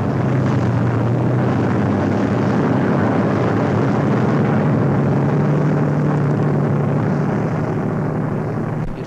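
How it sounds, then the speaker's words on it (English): Aircraft engines drone steadily as the plane begins to move on a royal tour, a loud, continuous low roar that stays even from start to finish, with no voices. "Aircraft begins to move."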